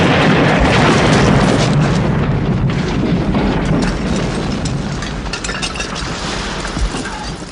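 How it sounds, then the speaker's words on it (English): A loud, sustained explosion from the train escape in the 1995 Bond film GoldenEye, a heavy roaring blast with crackling debris that gradually tapers off, no speech. "it's the first and best of the many Brosnan diving from an explosion escapes."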